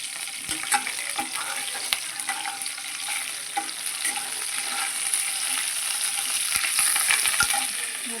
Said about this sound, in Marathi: लसूण कढीपत्ता मिरची मोहरी टाकते